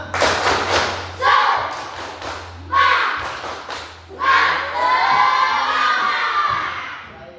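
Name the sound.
class doing a rhythmic spirit clap chant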